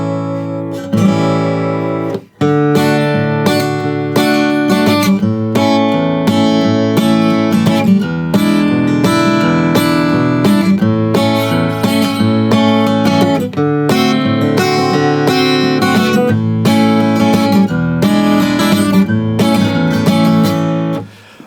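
An acoustic guitar in standard tuning without a capo plays the verse of a song: steady, rhythmic strumming of chords, loud and close, with no voice.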